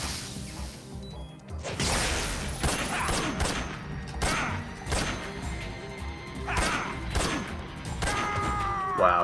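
Gunfire striking the player in Metal Gear Solid 3, a rapid series of sharp, loud impact cracks and thwacks repeating in an uneven rhythm amid game clatter.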